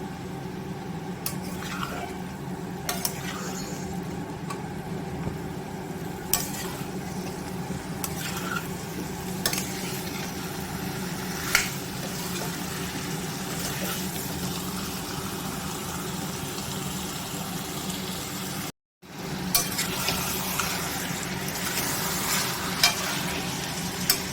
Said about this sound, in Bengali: সব আলু দিয়ে আরো কিছুক্ষণ কষাতে হবে মাংসটায়